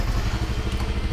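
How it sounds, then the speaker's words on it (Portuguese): A brand-new Yamaha Neo 125 runs close by with a steady, low, throbbing engine putter that holds even throughout. "A motinha ligou"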